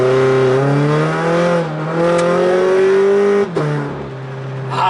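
Turbocharged FRS engine loudly revving and pulling through the gears, a strong rising drone that dips at each gear change and then climbs again, heard close from inside the car with no talking.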